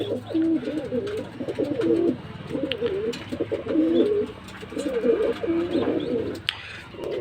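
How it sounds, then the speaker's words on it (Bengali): Four baby Kamagar pigeons coo repeatedly in soft rhythmic bursts, close by, with a low steady background hum and no talking. "এই যে দেখেন ভিউয়ার্স, এই 4টা কবুতর কিন্তু আছে"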